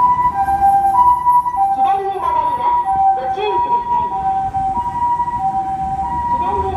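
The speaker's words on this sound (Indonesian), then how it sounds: "lihat teman, di sini ada mobil ambulan" A toy ambulance siren wails in a steady looping electronic tone, close and fairly loud, with some faint handling noise underneath.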